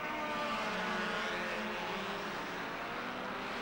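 Ferrari racing cars of 1957 rip past at the German Grand Prix on the Nürburgring, a loud, continuous engine roar that fades slightly as they pass, with no voices.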